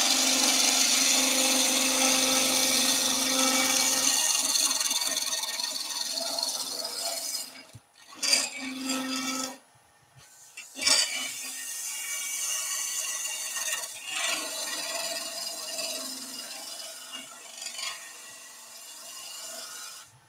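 A big skew chisel shaves wood on a lathe, cleaning up the finish: a continuous hissing cut that fades and breaks off in the middle, then resumes in shorter, quieter passes.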